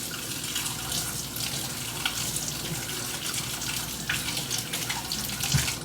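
Celery being washed under a running kitchen tap, a steady rush of water with irregular splashes as the stalks shift in the stream.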